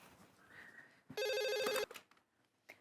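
A telephone rings once in a single trilling electronic burst, loud against a quiet room with faint background sounds.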